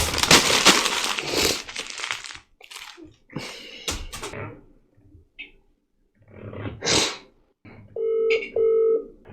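Scattered clatter and rustling give way to two short electronic keypad tones near the end, like a phone number being dialed.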